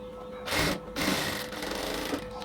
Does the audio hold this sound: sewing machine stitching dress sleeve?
yes